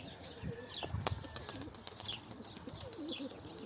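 Pigeons released from their loft, with wing flaps and soft coos over an open outdoor background, moderately distant and fairly faint.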